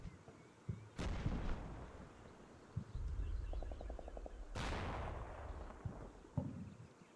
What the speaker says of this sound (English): There's mortars everywhere.